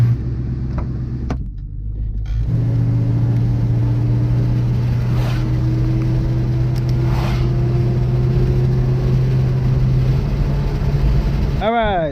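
A 1998 Ford Mustang GT fitted with a cold air intake drives down a road, its V8 engine a loud, steady drone with a rising tone as it accelerates through gears, near and continuous, with a brief rev at the start.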